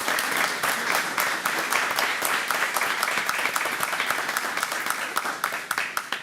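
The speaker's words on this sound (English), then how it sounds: "So if we could just have one more round of applause for Chris and for Eliana." Sustained applause fills a school board of education meeting, many hands clapping steadily at a fairly close, even level for several seconds before tapering slightly near the end.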